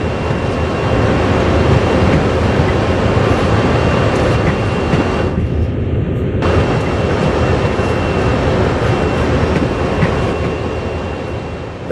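A CSX heavy-haul freight train coasts along in a simulator, with a loud, steady rumble of wheels and rolling stock and faint clickety-clack on the rails, continuous throughout and easing slightly at the end.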